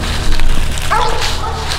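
A mountain cur dog barks at a raccoon treed in the woods, giving a few short, strained barks and yips close by with some outdoor background noise, no talking.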